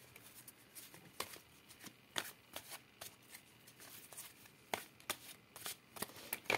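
Tarot cards being shuffled and cut for a love reading, quiet crisp riffling bursts and soft slaps in an irregular rhythm, close and faint, with no talking.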